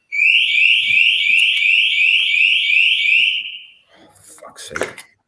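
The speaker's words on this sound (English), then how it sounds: "My alarm goes off by itself all the time" A home alarm set off on its own blares a loud, rapidly pulsing high electronic beep for about three seconds, then cuts out, followed by faint rustling and clatter.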